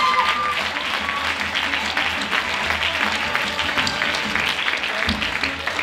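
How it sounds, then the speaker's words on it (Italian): Audience applause at a Christmas music, dance and theatre evening in San Martino Siccomareo, dense and sustained clapping filling the whole stretch without a break. "Un applauso a Margherita, meravigliosa fino all'ultimo."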